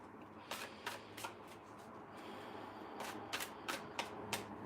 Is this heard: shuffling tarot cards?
yes